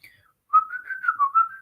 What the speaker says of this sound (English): So that's called whistling, okay?